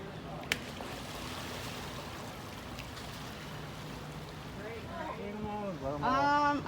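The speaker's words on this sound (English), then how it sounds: "They hear and see that splashing" Water sloshes and splashes as alligators move in a pond at Gatorland during a Halloween event, a steady churning wash with a sharp knock near the start. A voice joins toward the end.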